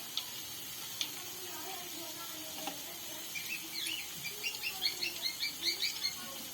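Chicken and vegetable pakoras fry in hot oil, giving a soft, steady sizzle with faint crackles that grow a little busier and more popping toward the end.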